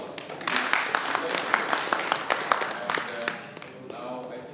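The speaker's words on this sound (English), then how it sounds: "let us give a big applause" Applause from an audience at a session, a dense wash of clapping lasting several seconds at steady loudness before tapering off.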